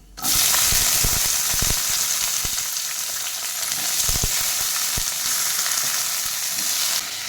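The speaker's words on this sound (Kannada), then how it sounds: "ಎಣ್ಣೆಯಲ್ಲಿ ಉರಿಯಬೇಕು, ಸ್ವಲ್ಪ ಎಣ್ಣೆಯಲ್ಲಿ ಬೇಯಬೇಕದು" Brinjal pieces fry steadily in hot oil for a vangi bath, a dense continuous sizzle with a few louder stirring scrapes partway through, close and without speech.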